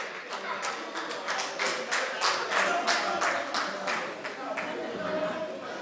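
A crowd at an awards event applauds with quick, dense clapping that swells for several seconds and then thins, heard at moderate distance under general chatter from the room.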